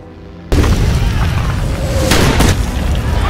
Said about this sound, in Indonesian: tiba-tiba pesawat tempur musuh melepaskan tembakan